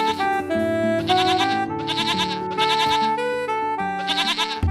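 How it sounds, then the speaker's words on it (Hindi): Several goats bleat loudly and close by, their wavering, nasal calls overlapping in a continuous chorus with short breaks, within a Hindi animated fairy tale. "अरे ये देखो, बकरियों की आवाज आ रही है"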